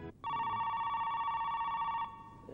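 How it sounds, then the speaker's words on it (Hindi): A telephone gives a single electronic ring, a steady bright tone lasting about two seconds in a quiet room, then stops. "ये उसी जहन्नुम से फोन होगा।"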